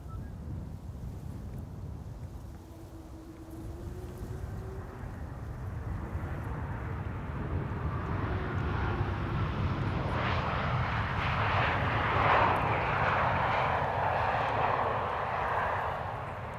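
A Delta Airlines Airbus A330neo widebody arrives at Amsterdam Schiphol, its jet engine noise building from a low rumble to a loud, close roar and then easing slightly, with wind buffeting the microphone.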